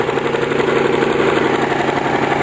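A lawn mower engine fitted with a custom muffler runs at a steady idle, loud and close, with a constant buzzing drone and no talking.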